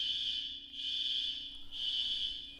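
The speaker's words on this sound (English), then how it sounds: "just had a situation here with the fire alarm" A fire alarm sounds with a high, piercing electronic tone pulsing in long on-off bursts, steady and moderately loud over faint low background noise.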